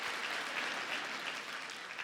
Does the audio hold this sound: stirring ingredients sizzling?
no